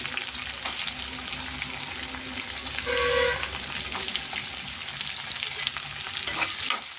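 Onion and green chilli pieces fry in oil with prawns for a prawn and cucumber curry, making a close steady sizzle with spatula stirs and scrapes, a brief tonal clatter midway, and no talking.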